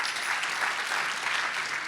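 Brief, steady audience applause at a political discussion event, a dense even patter of many hands heard alone.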